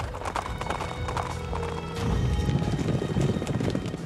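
Horses, stallions at a ranch where fine-bred horses are trained, bred and raced, with hooves clip-clopping in a steady rhythm alongside a faint whinny; the hoof noise and general commotion thicken and grow louder halfway through.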